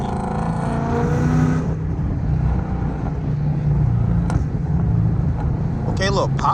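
Inside a 500hp Mustang GT, the engine drones and rumbles steadily as the car downshifts, with a few small exhaust pops near the end, while people talk over it.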